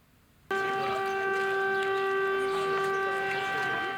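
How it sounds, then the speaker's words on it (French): A town siren in Mouzeuil-Saint-Martin, France, starts abruptly and holds a loud, steady multi-tone wail as a rallying signal, sounding alone without any voices. "Une sirène à Mouzeuil-Saint-Martin comme dans bon nombre de communes de France."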